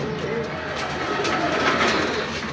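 A light-coloured male pigeon coos in repeated throaty rolls close by, under someone talking.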